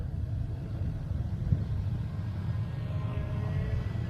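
Small electric motors of a WLtoys XK X450 RC airplane run at speed, a steady low whirring drone that holds evenly throughout with faint rising whine toward the end, outdoors with no talk.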